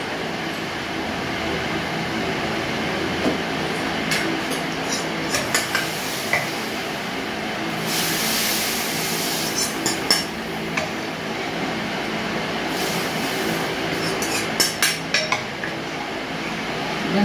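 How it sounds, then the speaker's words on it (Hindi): A kitchen exhaust fan runs steadily in a home kitchen, a continuous broadband whoosh through the whole stretch, with scattered clinks of utensils and dishes on top. "मैंने पंखा चला दिया है, आप लोगों को शोर आ रहा होगा।"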